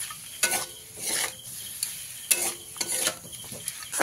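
Potato and papaya curry with sugar is stirred in a pan, a spoon scraping in short bursts over a soft, continuous sizzle, with a pause between strokes and no talking.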